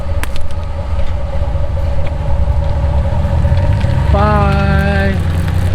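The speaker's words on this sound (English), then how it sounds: "we've got the light tied to the back of the truck. She's gonna drag it behind the parking lot too" A pickup truck rolls across a parking lot with an Olight Perun Mini flashlight tied behind it and dragging on the pavement, giving a steady loud low rumble of engine and road noise with a brief tonal whine near the end.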